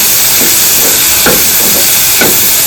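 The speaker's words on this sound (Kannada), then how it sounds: "ಇದು ಟೊಮಾಟೋನ ಎಲ್ಲ ಮೆತ್ತಗೆ ಆಗೋವರೆಗೂ ಫ್ರೈ ಮಾಡ್ಕೋಬೇಕ್ರಿ." Tomatoes with salt frying in a pan for an egg roast, a loud continuous sizzle and hiss close up, with faint stirring scrapes now and then and no talking.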